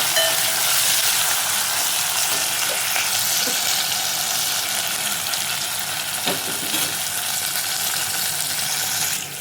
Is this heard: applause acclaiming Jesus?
no